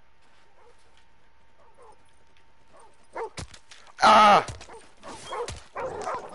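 A dog in Call of Duty: Modern Warfare 2 Remastered gives a short, loud yelp or whimper after quiet ambience and a few soft sounds, followed by a voice talking.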